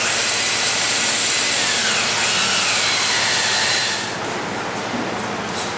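A power tool drives screws through slatwall panels into wall studs during a furring strip installation, a steady loud whirring and grinding that runs continuously before easing slightly toward the end.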